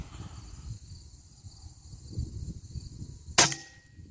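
A single sharp air rifle pellet shot rings out near the end, a crisp crack with a brief metallic ring after it, against quiet outdoor background with faint insect chirping.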